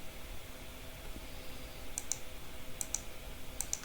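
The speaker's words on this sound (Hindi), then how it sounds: "मैं यहाँ पर 10 टाइप करता हूँ" Three quick bursts of key clicks on a computer keyboard, entering a number in AutoCAD 2025, sound faint and close over a steady background hiss.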